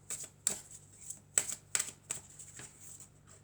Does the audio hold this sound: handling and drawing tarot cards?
yes